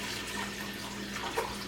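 Water, spring or non-fluoridated, runs steadily from a container into a pot for chicken soup, a continuous close splashing pour with no talk.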